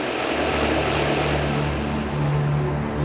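A helicopter in a military training video game drones steadily with a low, continuous rotor and engine hum, loud and unbroken with no voices.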